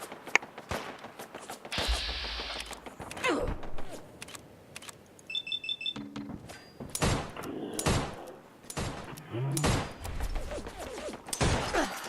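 Gunfire from raiders in Fallout 4, irregular bursts of shots and sharp impacts scattered over several seconds, mixed with thuds and other game sounds, with no talk.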